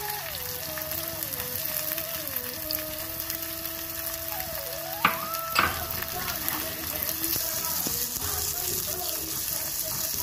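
Onions frying in a pan for a curry of ridge gourd and bottle gourd peels, a steady sizzle with a tonal hum beneath and a couple of sharp clinks of a spoon.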